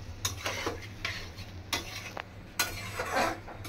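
Potatoes fry in oil for aloo dum while a utensil stirs them, giving several distinct scraping strokes over a soft, steady sizzle. Close and fairly quiet, with no voices.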